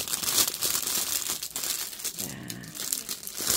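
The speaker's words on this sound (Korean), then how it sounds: "비닐을 이렇게 딱 제거해 주셔야 돼요" Plastic wrapping is crinkled and pulled off a potted rose, close and loud, with repeated rustling and tearing bursts throughout.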